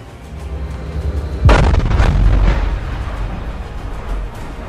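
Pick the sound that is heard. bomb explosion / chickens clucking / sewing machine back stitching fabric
bomb explosion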